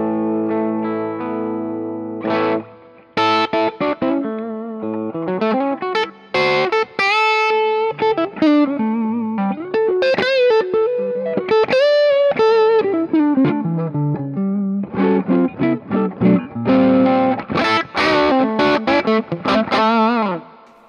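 Electric guitar played through a Kingsley ToneBaron pedal set for mild breakup, with the gain turned down a little, gives strummed chords and single-note melodic runs in a warm, lightly distorted tone, heard alone.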